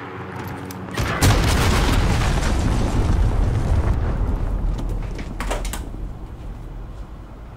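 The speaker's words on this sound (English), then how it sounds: "Enemy cruise missile incoming." Cruise missile explosions in a Call of Duty-style multiplayer shooter: a loud, sustained roaring blast erupts after a quieter opening second and rumbles on for several seconds, with a second burst near the end.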